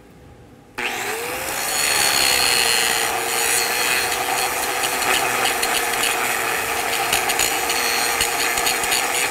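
Grinding on steel pipe to take down weld restarts and tie-ins: a loud, steady abrasive grinder whine that starts abruptly after a brief quiet moment and runs continuously to the end, alone with no talk.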